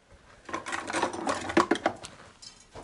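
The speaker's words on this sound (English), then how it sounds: "I'll whisk them to death." Eggs whisked in a bowl with quick, uneven clinks and scrapes of a whisk, faint and close, with no talk.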